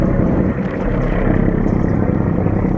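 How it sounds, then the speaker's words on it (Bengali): Engine of the Tipu 12 river launch, a passenger vessel, drones loudly and steadily throughout, a dense low rumble with wind noise over it and no voices. "ইঞ্জিনের ভালো পরিমাণে সাউন্ড হচ্ছে এখানে"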